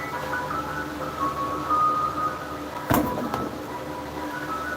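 A tinny ice cream truck jingle plays at moderate volume, its repeating tune steady throughout, with a brief knock or thud near the middle.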